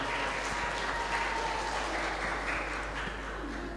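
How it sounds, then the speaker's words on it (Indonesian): Audience applause at a Ramadan sholawat music festival, a continuous dense clapping wash at moderate loudness that holds steady throughout with a low background hum. "Tepuk tangan yang meriah."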